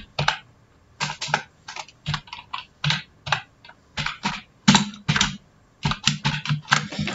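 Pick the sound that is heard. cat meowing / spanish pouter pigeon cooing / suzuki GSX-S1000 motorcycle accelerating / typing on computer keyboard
typing on computer keyboard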